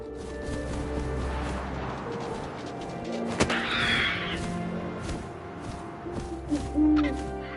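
An owl hoots in the game What Remains of Edith Finch, soft low hoots set against a steady ambient bed, with a sharp crack partway through and a few brief bursts near the end.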